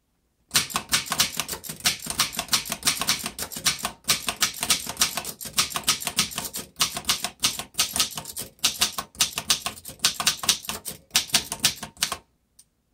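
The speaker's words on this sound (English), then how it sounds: "I'm trying to be gentle with this typewriter" A 1919 Corona Three vintage typewriter typed in quick bursts of crisp key strikes with short pauses, close and clear, with no talking.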